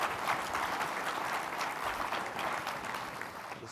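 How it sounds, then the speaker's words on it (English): Conference audience claps together in a sustained round of applause, moderately loud and even, tapering slightly toward the end with no talk over it. "Let's give ourselves a round of applause."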